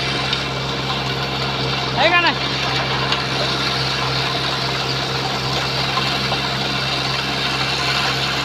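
A tractor engine idles with no one at the wheel, giving a low, steady mechanical hum throughout. People talk over it and a brief high chirp cuts in once near the start.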